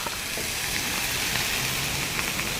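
Spices sizzle in a hot pan for a Moroccan chicken dish, a steady bright frying hiss with faint crackles and light stirring, close and continuous, no talking.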